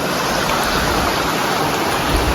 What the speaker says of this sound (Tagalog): Ang sapa dito.